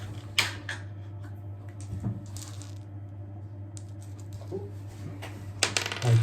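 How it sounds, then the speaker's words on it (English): Small 3D-printed dice are loaded one by one into a 3D-printed dice shotgun shell prototype with a latch, giving sharp plastic clicks and clacks in a few separate bursts over a steady low hum. "So the idea now is just like to load multiple dice"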